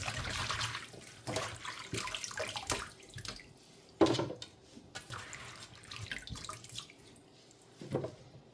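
Tap water running into a sink while fresh mint is rinsed under it, a soft splashing stream broken by intermittent louder gushes and handling splashes, close and fairly quiet with no talking.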